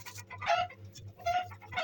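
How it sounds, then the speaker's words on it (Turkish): Laying hens cluck in the background, with two short bursts of calls at a moderate distance; the sound is fairly faint and comes over a low steady hum. "Tavuklar yumurtluyor."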